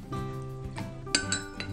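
A spoon clinks against a cup while stirring egg dye mixed with vinegar, several quick, bright metallic taps close up in a kitchen.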